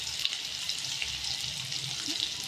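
Tomato and ginger-garlic paste frying in hot oil for a masala brinjal tempering, a steady close sizzle with soft crackle throughout, no voices.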